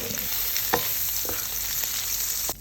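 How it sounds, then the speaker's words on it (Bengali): Eggs fry in plenty of butter in a frying pan with a soft, steady sizzle, broken by a few faint clicks from a spatula. "এখন ডিমগুলো ভেজে নিবে বাটারে"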